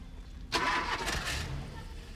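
A vehicle engine cranks and catches with a sudden burst, then runs roughly for a moment close by, with faint voices in the background.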